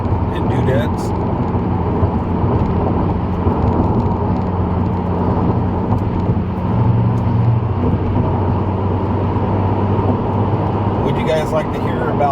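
A car cruises down freeway 91 at night, its steady low road and engine rumble heard from inside the cabin, constant and fairly loud with a brief rise midway, and no one talking.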